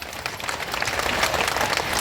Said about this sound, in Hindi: एक बार इनके लिए ताली बजाओ।